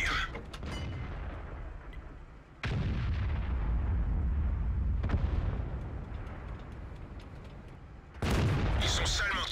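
AMX 30 tank cannon firing in a video game, heavy booming blasts with long rumbling decays, several shots separated by a few seconds, loud and close, with a voice faintly present between them.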